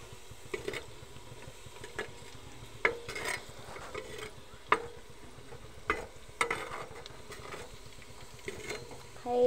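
Onion frying in a pot in a home kitchen, a soft steady sizzle broken by repeated scraping clinks of a spoon stirring against the metal, quiet and close, with a voice speaking at times.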